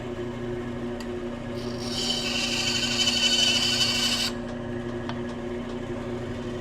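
Thin 1/8-inch scroll saw blade dragged out between sheets of sandpaper to break in the tooth edges, one raspy scraping pass of about two seconds over quiet room hum, with a couple of faint clicks afterward.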